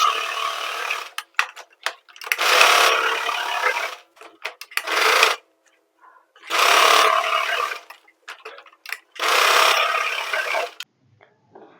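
A sewing machine stitches the shoulder seam of a lined blouse in four separate bursts of steady whirring, each lasting a second or two, with quiet pauses and small clicks and handling noises between them.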